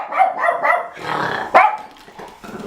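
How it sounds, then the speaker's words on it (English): A dog barks and growls close by indoors, several rough barks in a short burst with one sharp, louder bark standing out, and no talking over it. "You guys right. hear the dog in the background"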